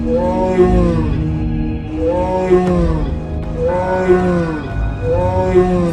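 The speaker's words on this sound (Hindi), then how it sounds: "चंपा शेर के सामने आकर सींग उछलकर दहाड़ने लगा" A cartoon buffalo bellows angrily at a lion in an animated Panchatantra tale, giving four loud, drawn-out roaring calls in a steady rhythm, each one rising and falling.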